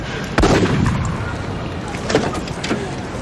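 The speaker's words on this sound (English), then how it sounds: "that was a gunshot" A single sharp gunshot cracks out early, followed by a couple of weaker distant pops over low traffic rumble, heard from a car driving through an urban neighborhood.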